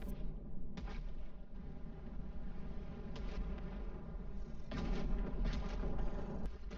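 Meteors crashing down during a meteor shower in a video game while defending an element vein, a continuous low rumbling barrage with repeated booming impacts, loud and close.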